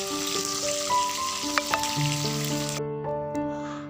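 Potatoes frying in a home kitchen pan give off a steady sizzle and crackle, with a few sharp pops. Quiet tonal hums run beneath it, and the sound drops away near the end.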